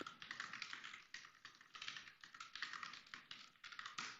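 Rapid, quiet clicking of a computer keyboard being typed on, in irregular bursts with short pauses, close and alone with no talking.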